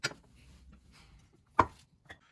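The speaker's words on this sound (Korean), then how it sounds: "이 상태로 당근이랑 양배추 둘 다 잘게 다져주겠습니다" Carrots and cabbage being finely chopped with a knife, heard as a few sharp, separate thuds of the blade on the board at irregular intervals, close by and otherwise quiet.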